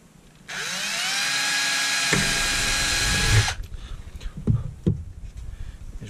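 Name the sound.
drilling through a plate on a recycled beer keg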